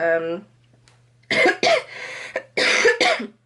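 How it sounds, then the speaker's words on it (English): Two pairs of harsh, close coughs follow a brief spoken sound, separated by short pauses. "I've still got a cough"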